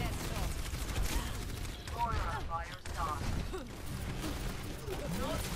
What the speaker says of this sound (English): Or Ash is trying to shoot the Mercy, of all things.